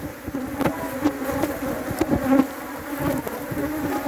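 Loud, continuous buzzing of many agitated honeybees swarming close by at an apiary in Trinidad, droning with rising and falling intensity.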